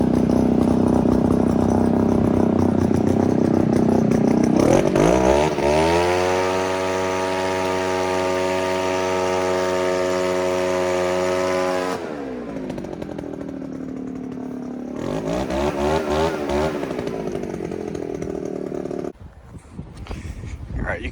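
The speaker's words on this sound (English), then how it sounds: "So I'm gonna go get the leaf blower and blow this thing out." Leaf blower blowing dust out of an outdoor air conditioning unit: a loud, steady engine roar that shifts pitch as the throttle changes, cutting in and out with brief pauses.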